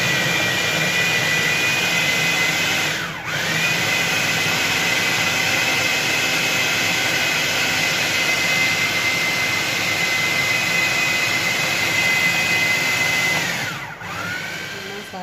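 An electric kitchen chopper whirs continuously as it chops onion, green chilli and garlic. The loud, steady motor hum runs for about fifteen seconds, with two brief dips where it pauses.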